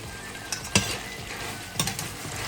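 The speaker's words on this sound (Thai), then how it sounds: "พอน้ำของเรางวดได้ที่แล้วเราก็คนนิดหน่อยครับ" A spoon stirs a reduced pork bone curry in a pot over a low flame, giving a few scraping clicks over a soft, steady sizzle, close and alone without speech.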